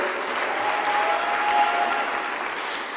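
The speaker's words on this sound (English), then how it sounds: "Can we give her a round of applause?" An audience at a Commonwealth youth forum closing ceremony breaks into steady, dense applause. The clapping holds evenly for a few seconds, with a faint crowd murmur beneath it.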